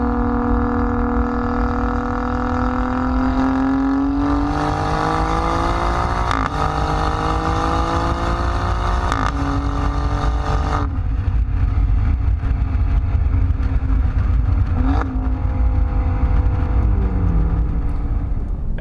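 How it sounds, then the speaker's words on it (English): Alfa Romeo Giulia Quadrifoglio exhaust under way, a loud, close engine note climbing steadily through the gears with sharp drops at each upshift and continuous rumbling drone, no talk over it. "Oh my God, the exhaust is amazing."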